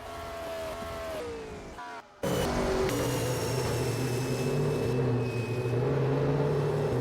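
Onboard roar of the No. 45 Monster Energy race car at Gateway, engine droning with a brief cut before surging back loud and steady as it powers off the corner exit.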